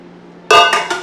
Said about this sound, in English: I'm going to be putting these ones aside because I need space to arrange my granite pot, and I'm going to dispose these pots